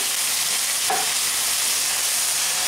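Chicken stir-frying in a pan with a splash of water and little oil, giving a steady loud hiss and sizzle throughout, with one brief scrape of the spatula, no talking.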